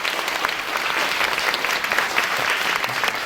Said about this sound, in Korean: 고인수 단장님께 다시 한번 큰 박수 부탁드립니다